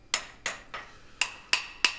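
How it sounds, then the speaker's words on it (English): A blacksmith's hammer strikes hot steel while forging a knife, six sharp, ringing blows at an even, unhurried rhythm. The last three blows ring with a brighter metallic tone, and no voices are heard. "Here, I switch to a smaller hammer and begin profiling the knife."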